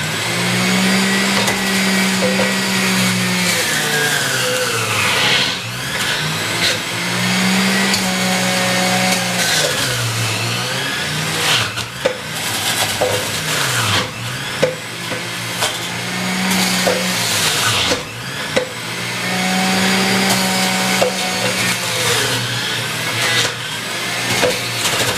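A juicer grinds through green vegetables, a loud motor whine that repeatedly bogs down and recovers in sweeping pitch dips as each batch is pressed through, running continuously.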